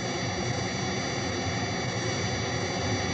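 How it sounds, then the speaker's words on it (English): Synthesized jet engine roar from an electronic music synthesizer, a steady, loud, broadband rushing drone held evenly throughout with no talk. "Let's listen to how this jet noise can be altered when parts of it are filtered or removed."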